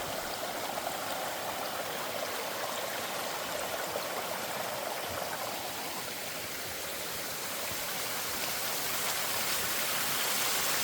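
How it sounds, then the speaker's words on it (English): A small waterfall on a Ben Nevis hiking trail splashes steadily nearby, a continuous bright rushing hiss of falling water with no voices. "Lovely little waterfall."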